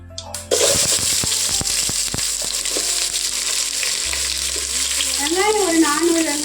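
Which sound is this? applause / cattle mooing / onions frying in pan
onions frying in pan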